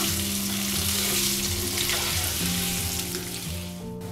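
Cubed potatoes sizzle loudly in hot oil with ginger and green chilli while being cooked for spiced cumin potatoes, a steady close crackle with occasional stirring shifts throughout.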